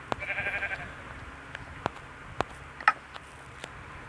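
Sheep bleat in the Minecraft video game, a short wavering call at the start followed by faint game ticks and clicks at a low level.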